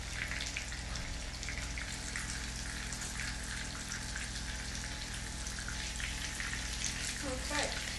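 Steady sizzling and crackling of chicken frying in hot oil in a frying pan fills the clip, a continuous hiss with a brief clink near the end.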